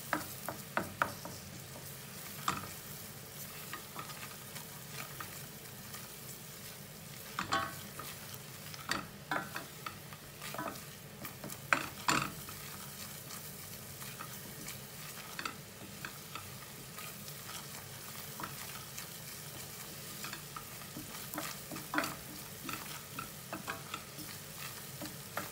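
Tomato paste is stirred into a simmering vegetable mixture, with low frying hiss and irregular spoon clicks and scrapes against the pot over a long stretch, no talking.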